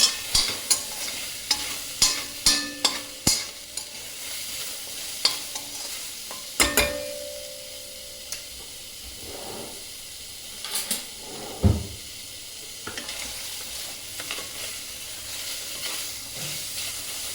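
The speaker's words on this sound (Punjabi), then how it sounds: "ਹਰ ਤਰ੍ਹਾਂ ਦਾ ਸੇਕ ਲਵਾਵਾਂਗੇ ਆਪਾਂ ਇਹਨੂੰ ਕਿਉਂਕਿ ਆਪਣੇ ਪਿਆਜ਼ ਬ੍ਰਾਊਨ ਹੋ ਚੁੱਕੇ ਆ" Browned onion masala sizzles in a pan while a spoon stirs it, sharp scraping clicks coming in quick bursts at first and then spacing out over a soft, continuous frying hiss, close up with no speech.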